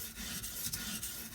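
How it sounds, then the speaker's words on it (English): A chef's knife slides across wet sharpening stones on an Edge Pro, giving faint, gritty rasping strokes in a quick repeating rhythm, quiet and close with no voices. "The way I sharpen with these wet stones"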